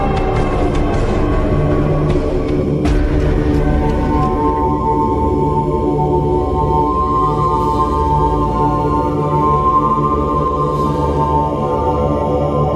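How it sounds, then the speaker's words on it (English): A continuous, eerie electronic drone from NASA space sound data, with shifting tones and faint whistling sweeps, steady and loud throughout, like an otherworldly hum. "I want you to listen the sound of space."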